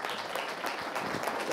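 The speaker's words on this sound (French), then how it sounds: "Donc, une bonne main d'applaudissements pour Hydromel." An audience claps for a mead maker at a public market event, with continuous, even applause of many hands that holds steady throughout.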